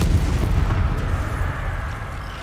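A Confringo blasting spell in a video game goes off as a loud, deep booming blast that rumbles and slowly fades over a couple of seconds, with no talk over it.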